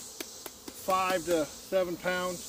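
Honey bees buzz on heavy hive frames full of honey, making a steady high hum in the background while someone talks over it.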